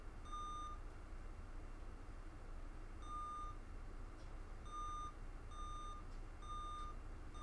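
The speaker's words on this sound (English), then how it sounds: "We got some beeping." The Berserk arcade game booting on a MiSTer FPGA gives off short, high electronic beeps in an irregular series of about six, each a clean tone over a low steady hum.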